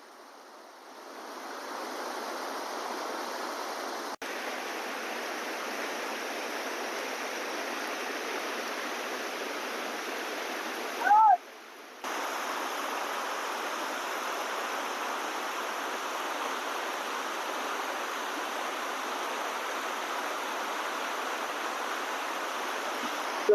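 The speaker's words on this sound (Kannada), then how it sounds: "ಆಕ್ಚುಲಿ ಒಂದು ವಾಟರ್ ಫಾಲ್ಸ್" Waterfall rushing steadily as a broad, constant roar of falling water that fades in at the start, with a brief interruption partway through and no voices.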